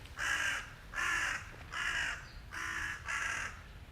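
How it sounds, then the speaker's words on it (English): A crow caws five times in a steady rhythm in Tokyo, Japan, each harsh call evenly spaced, clear and fairly close, with nothing else but faint background noise. "Two crows."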